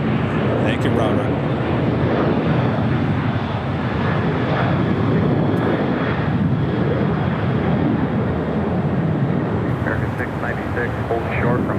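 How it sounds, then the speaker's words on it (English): A Boeing 787-9 Dreamliner jet at LAX roars steadily and loudly throughout, a continuous broad engine rumble, with voices talking over it. "Norris, flight 311, coming in from Paris, 787-9 Dreamliner"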